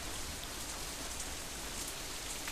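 Heavy rain with wind in a visual novel, a dense, even hiss of downpour filling the clip continuously, with no voices.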